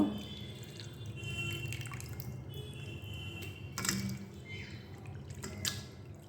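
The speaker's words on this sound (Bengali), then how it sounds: "এরকম চারবার এইভাবে ধুয়ে নেবো" Raw mango pieces being washed by hand in a bowl of water, soft sloshing, dripping and squishing at close range with a few sharper splashes, fairly quiet and with no talking.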